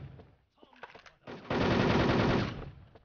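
Rapid automatic gunfire from an SL weapon in a battlefield video game bursts loudly for about a second, preceded by scattered clicks and short shots.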